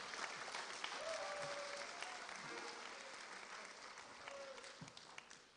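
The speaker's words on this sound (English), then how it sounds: "Let's give another round of applause for all of the award recipients tonight" An audience applauds award recipients at a university honors program ceremony, with sustained, fairly distant clapping that slowly fades and brief voices rising through it.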